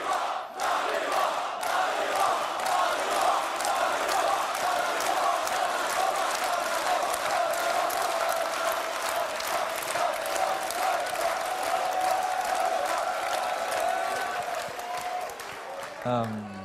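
A large esports tournament crowd roars and applauds continuously, a dense sustained wall of cheering that holds steady and then cuts off abruptly near the end.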